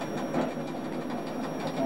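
An electric train runs through the Jungfraujoch mountain tunnel at high altitude in Switzerland, a steady close rumble and rhythmic clatter of wheels filling the cab without pause.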